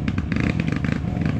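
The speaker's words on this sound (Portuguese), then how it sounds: "E a moto tá por ali gritando" Dirt motorcycle revving hard on a steep trail ride, a loud, continuous engine roar with rapid throttle pulses close by.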